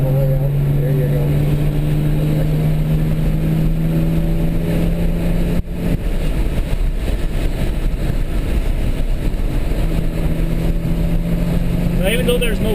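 Race cars at Watkins Glen run at full throttle under a yellow flag, a steady engine drone continuing throughout while people talk over it.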